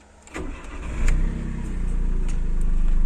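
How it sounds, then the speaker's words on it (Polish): A first-generation Subaru Justy engine cranks briefly, catches after about a second and settles into a steady idle, heard up close and alone. "Odpalę silnik."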